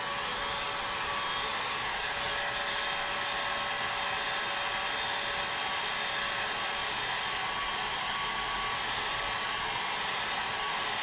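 Heat gun blowing hot air over wet epoxy coating on a tumbler, a steady, close, loud airy roar with a faint tonal whine that holds unbroken for the whole stretch, with no talking.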